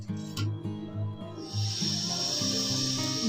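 Finely chopped onion fries in hot oil. A loud, bright sizzle bursts in partway through and holds steady over a low tonal hum.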